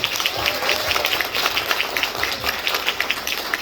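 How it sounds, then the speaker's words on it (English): Audience applause at a product launch for Ming Sing Florida Water, a moderate, somewhat sparse clapping with individual claps audible, fairly close and steady throughout. "let's give her another round of applause"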